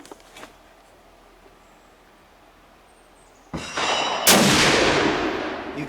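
Rifle fired at an outdoor shooting range: quiet at first with a faint click, then two loud sharp shots a little under a second apart, each followed by a long booming echo that rolls on.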